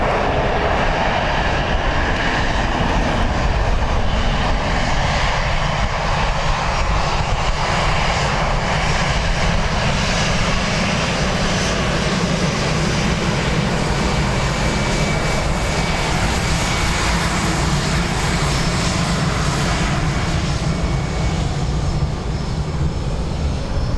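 Condor airliner's jet engines roar steadily at Dublin Airport during departure, a loud, continuous broadband rumble with a whining upper layer that holds for the whole stretch without talk.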